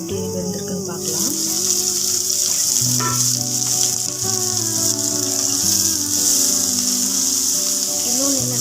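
Vegetables and noodles sizzle and fry in a pan with a loud, continuous crackling hiss, while a voice talks over the cooking throughout.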